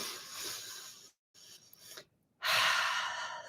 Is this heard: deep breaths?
yes